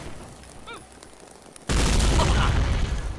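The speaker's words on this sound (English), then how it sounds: "Fucking explosion." A sudden loud blast in the video game Garry's Mod cuts in halfway through after quieter game noise, then a sustained roaring rumble carries on to the end.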